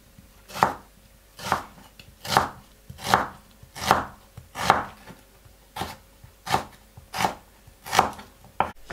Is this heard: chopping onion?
yes